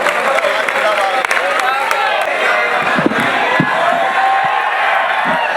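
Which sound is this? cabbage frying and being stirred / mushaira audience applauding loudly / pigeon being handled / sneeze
mushaira audience applauding loudly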